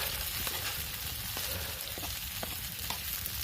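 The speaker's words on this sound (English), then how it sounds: "Taters, onion, they're cooking good." Potatoes and onions sizzle and crackle steadily in butter in a hot pan outdoors at a campsite, a continuous frying hiss with occasional small pops and faint stirring, no voices.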